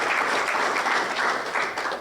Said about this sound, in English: Can I get a round of applause for their continued commitment to your businesses?